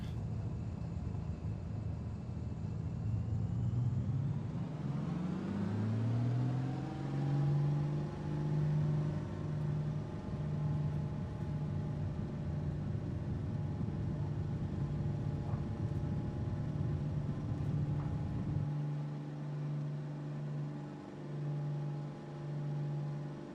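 Carenado B55 aircraft engine in MSFS 2024 spooling up for takeoff, a steady mechanical drone that climbs in pitch over several seconds and then holds a loud, even roar, its low end dropping away near the end.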